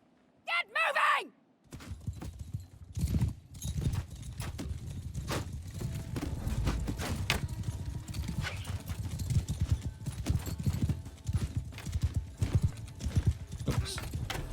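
Horse hooves pound in a Mount & Blade II: Bannerlord battle, a dense, steady clatter of many galloping mounts that runs throughout, with a neigh and shouted voice near the start.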